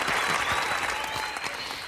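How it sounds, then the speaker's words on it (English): Dense crowd applause at a virtual supply-chain awards event, steady and full throughout a short burst with no voices over it. "give yourselves a round of applause"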